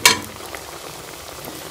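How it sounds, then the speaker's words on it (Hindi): Shami kebabs frying in a pan, turned to brown on the second side; a close, steady oil sizzle with a brief louder burst at the start, no talking. "दूसरी साइड से भी इसी तरह हम गोल्डन होकर फ्राई कर लेंगे"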